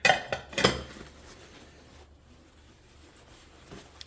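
Dishes and cutlery clink a few times up close at the start, sharp brief rattles followed by quiet room tone and a faint final clink.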